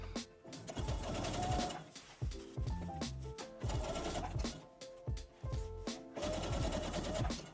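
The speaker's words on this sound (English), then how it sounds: "Using a 1 centimeter seam, or 3/8 of an inch, sew all along the tops of the pleats." A sewing machine stitches a 1 cm seam along the tops of tennis skirt pleats through three to four fabric layers, running in several steady bursts with short pauses between them, close and fairly loud.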